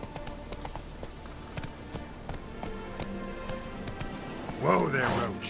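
Roach the horse gallops in The Witcher 3: Hearts of Stone, its hooves making a steady, rapid clip-clop over game ambience, and a voice speaks briefly near the end.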